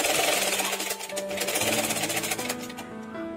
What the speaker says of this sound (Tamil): கழுத்து ஓரமா வச்சு தையல் போட்டுக்கணும். அப்படி ஸ்லோவா தைக்கணும்.